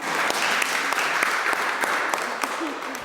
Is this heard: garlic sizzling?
no